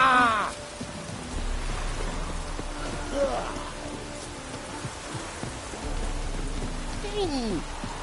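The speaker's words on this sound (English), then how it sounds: "Looked like it would rain, and here it is." Steady rain hisses across the open world of the video game The Witcher 3: Wild Hunt, a continuous soft wash with a few brief grunts and low rumbles over it.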